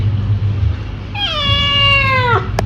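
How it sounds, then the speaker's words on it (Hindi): A cat meows once near food, a clear, drawn-out falling cry that starts partway in over a low background hum and ends with a short sharp click. "बिल्ली अभी आ गई है"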